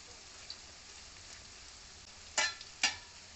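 Vegetable pakoda fry in hot oil over a low gas flame, giving a quiet, steady sizzle close by, broken by two sharp crackling pops near the end.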